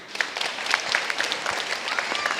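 Brief burst of audience applause in a live TV studio, close and fairly loud with distinct individual claps over a dense clatter.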